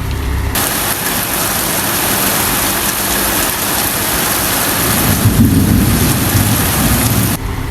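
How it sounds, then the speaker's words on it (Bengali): Heavy late-night downpour during a violent thunderstorm in Dhaka city: a loud, dense, continuous roar of rain with deep rumbling thunder running underneath, close and steady throughout. "আল্লাহ আমাদেরকে স্বস্তির বৃষ্টি দিয়েছে"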